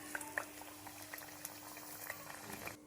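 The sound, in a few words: bajji pieces dipped in batter frying in oil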